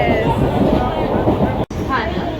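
A suburban train pulls away toward Virar station. A loud, steady rumble of rolling wheels fills the carriage, with one brief dropout and faint voices underneath.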